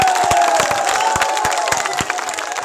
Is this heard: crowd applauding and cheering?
yes